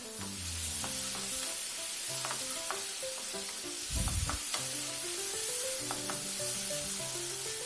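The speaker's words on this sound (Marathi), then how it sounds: "छान सगळं मस्त असं 2-3 मिनिटांसाठी सॉटे करून घ्या." Tomatoes sauté in a pan for methi malai matar with a steady, close sizzle and intermittent stirring scrapes, while a soft melodic tune plays underneath.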